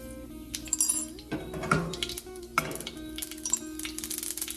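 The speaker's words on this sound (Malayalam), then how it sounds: "ആ കടുക് പൊട്ടി വരുന്ന സമയത്ത്" Mustard seeds spluttering in hot coconut oil for a pumpkin and red cowpea erissery, heard as scattered sharp pops and crackles over a low, steady hiss. A few louder bursts stand out against the quieter background.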